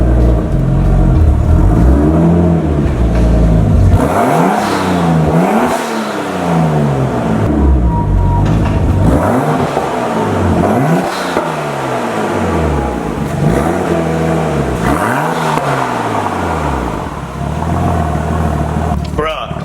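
A car with a Nissan RB engine revved repeatedly, loud and close, with about five rising and falling rev sweeps over a steady idling drone.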